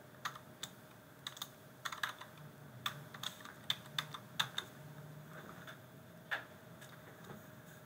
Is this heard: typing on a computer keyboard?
yes